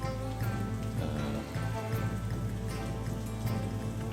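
Rain falling in the video game Sakuna of Rice and Ruin, a soft continuous patter under a steady musical score, faint and even throughout.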